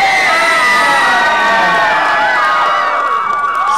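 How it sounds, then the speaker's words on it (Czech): Crowd at a Czech gymnasium graduation ball, the maturitní ples, cheering and shouting loudly for a contestant, a dense sustained roar of whoops and high voices close by. "Kdo fandí slečně Marce?"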